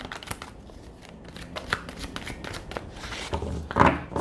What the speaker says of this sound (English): Just gonna give it a little bit more of a shuffle.